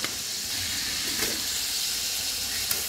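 Onion and cumin paste frying in a pan, a constant hissing sizzle with a few faint stirring scrapes, close and steady throughout.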